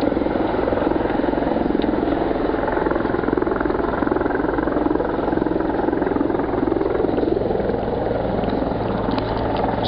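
Over Montreal, a hovering helicopter gives off a steady, unbroken engine drone with a low rhythmic throb. It sounds fairly distant and holds an even loudness throughout.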